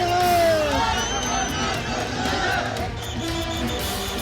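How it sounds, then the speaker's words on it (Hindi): A large crowd at Kangana Ranaut's nomination rally in Mandi roars and chants slogans, a dense outdoor swell of voices with rising shouts and whoops, loud and continuous. "नारों से गूंजती मंडी की वादियां।"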